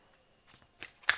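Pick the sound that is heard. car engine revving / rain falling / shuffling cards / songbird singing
shuffling cards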